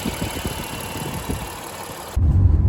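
A Honda Odyssey minivan engine fitted with a performance air filter runs at a steady moderate hum, then grows louder and rougher near the end.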